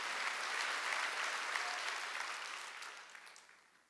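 A congregation at a Wednesday church service claps together in a dense, even burst that fades out toward the end, fairly faint and without voices.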